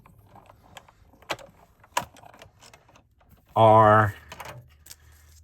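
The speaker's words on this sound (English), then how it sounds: "So I'm going to pull up my die cutting machine and I will run this through" A die cutting machine runs a paper card through in one loud, buzzing mechanical burst lasting about half a second, after scattered speech and small handling clicks.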